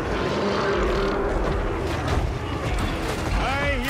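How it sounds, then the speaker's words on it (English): A plane roars overhead in the Warhammer 40K Darktide video game, a loud, rumbling engine drone amid battle noise, with a voice calling out near the end. "I hear a plane!"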